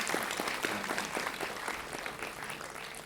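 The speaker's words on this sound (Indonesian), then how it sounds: "tepuk tangan dulu buat Maitem" A small group of people clapping for Maitem inside a home, a brief burst of scattered hand claps heard fairly close and soft.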